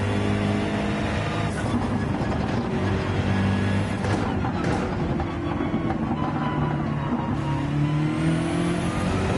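BMW race car in Gran Turismo 7 on the Dragon's Trail circuit, engine revving steadily as it accelerates out of a corner, loud and continuous with shifting pitch and a brief dip as the throttle lifts.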